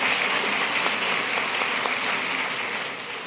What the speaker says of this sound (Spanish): el pastor Gerardo Ferace, al cual vamos a recibir con un aplauso, por favor